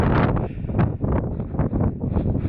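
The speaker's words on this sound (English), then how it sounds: "Out of this relentless wind." Relentless wind gusting straight into an outdoor microphone, a rough buffeting roar that swells and dips continuously for a few seconds.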